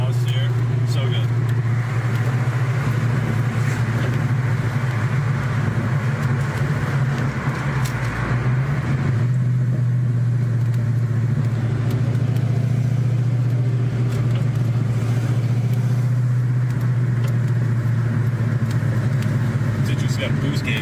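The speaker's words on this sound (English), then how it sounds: "There's no better sound than this exhaust here." A car's exhaust rumbles with a steady low drone while driving, close and continuous, as people talk over it.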